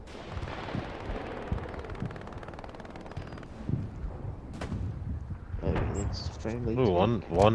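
Gunfire in the John Wick video game, with repeated shots and bursts crackling through the clip, some loud and close, mixed with steady battle noise and people talking over it.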